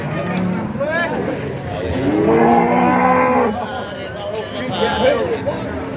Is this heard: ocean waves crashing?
no